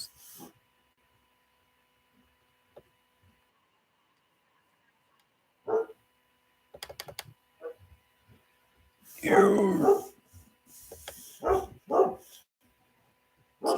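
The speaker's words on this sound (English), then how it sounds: "What the fuck is my dog barking about?" A dog barks and growls in short, scattered bursts, with some louder clustered barks near the end amid long quiet gaps.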